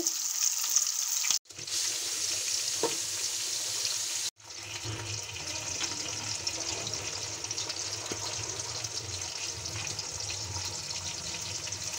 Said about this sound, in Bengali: কড়াইতে তেল গরম হয়ে গেছে, এখন আমি দিয়ে দিচ্ছি লবণ হলুদ দিয়ে মেখে রাখা মাছগুলো